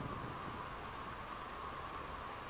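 Steady rain and wind from a dark, stormy night in the Nancy Drew game Warnings at Waverly Academy, a constant dense hiss of falling rain with no talk.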